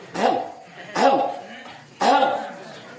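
Three deliberate throat clears pushed from the stomach come in a steady rhythm about a second apart, each a short forceful rasp from a nearby voice.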